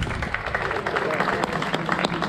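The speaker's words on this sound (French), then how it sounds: "On peut l'applaudir aussi." An outdoor audience at a rally event in Saint-André-les-Alpes claps for the mayor of Lambruisse, a dense, steady patter of hands at moderate distance with talk mixed underneath.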